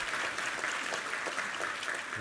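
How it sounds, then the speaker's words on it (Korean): A church congregation at a Sunday worship service breaks into even, continuous applause. The clapping is moderately distant, holds steady for the whole moment, and no talk is heard over it. "우리 하나님께 감사와 영광의 박수 올려드리겠습니다."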